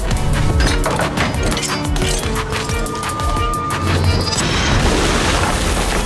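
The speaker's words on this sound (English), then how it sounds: "A grenade suddenly fell from above." A grenade explodes in a loud, dense crash and rumble that fills the scene, followed by sustained roaring noise and debris-like clatter, all close and heavy.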